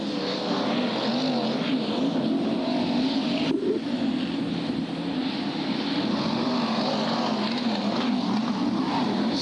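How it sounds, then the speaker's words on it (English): A rough-sounding stock car engine drones past at an oval race meeting in Bradford, a steady, loud mechanical roar with a brief swell as it goes by, set against continuous track noise. "car sounding very, very rough as he came past then"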